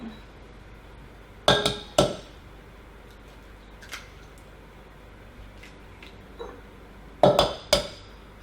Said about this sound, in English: you want to crack your 2 eggs into your bowl